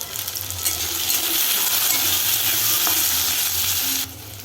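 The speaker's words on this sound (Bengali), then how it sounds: "নুন আর হলুদ দিয়ে হালকা ভাজা হতে দেব।" Potato, taro and ridge gourd fry in oil with salt and turmeric, giving a steady close sizzle with a faint clink partway through, and no talking.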